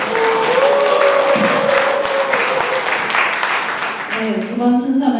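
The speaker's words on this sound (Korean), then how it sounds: "축제 시작을 알리는 큰 박수와 환호를 보내주시기 바랍니다" An audience at an anniversary ceremony for a leadership school applauds and cheers, a loud continuous wash of clapping with voices and music running underneath.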